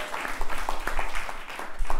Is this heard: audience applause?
yes